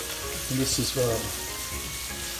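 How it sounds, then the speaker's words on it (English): Onions fry in a pan while chicken wraps are being made, giving a steady, close hiss of sizzling that runs the whole time, with a voice speaking briefly over it near the start. "that's the onions cooking up"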